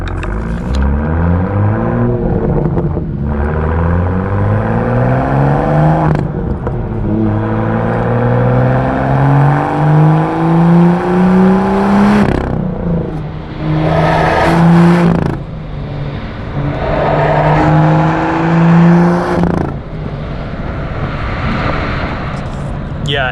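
A tuned BMW F87 M2 on a Stage 1 93-octane tune pulls hard through the gears, its engine note climbing in pitch with each gear, then dropping sharply at every shift, loud and close-up inside the cabin.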